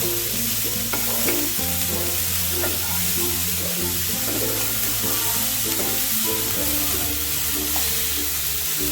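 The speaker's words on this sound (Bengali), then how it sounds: "দেখো সমস্ত সবজি মশলা দিয়ে আমি প্রায় পাঁচ মিনিটের মতন একটু নাড়াচাড়া করে নিলাম" Mixed vegetables, chopped tomato and spices are stirred in a frying pan for oats khichdi, a steady close sizzle with repeated spatula scrapes running throughout over a constant low hum.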